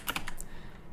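Fingers tap a computer keyboard in a brief, quick burst of a few soft keystrokes, close and quiet.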